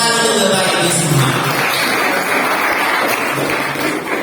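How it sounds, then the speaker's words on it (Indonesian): Broad applause from an audience at the opening of a teacher training workshop in Pontianak, a steady wash of clapping that holds at a fairly loud level throughout. "Tepuk tangan untuk Bapak Ibu semua."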